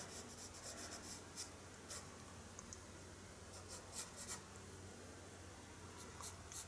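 Pastel scratches across paper while a horse's tail is drawn: a continuous faint, close dry rubbing and scraping with small irregular strokes and ticks, quiet and alone.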